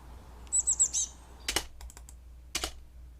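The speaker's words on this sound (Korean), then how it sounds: "스페이스바," A brief high electronic chirping tone is followed by two separate, close, crisp clicks of a computer keyboard space bar in an otherwise quiet room.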